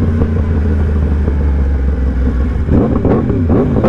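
Loud nearby revving from a Yamaha R1M crossplane-engine motorcycle: a deep steady drone that breaks into a series of quick blips and throttle swings toward the end.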